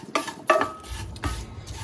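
Milk beans curry ingredients being stirred together in a pot, three or four short scraping, clattering strokes of a spoon against the pan, close and fairly loud with a faint sizzle between them.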